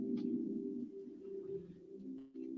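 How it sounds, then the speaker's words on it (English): A pigeon coos outdoors, a soft low repeated call that is faint and close to steady across the moment, with no talking over it. "Now, I hear the birds outside,"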